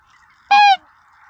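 Single loud, close honk from a waterfowl flock, called swans, during a spring snow goose hunt; one harsh nasal call lasting about a quarter second over faint background noise.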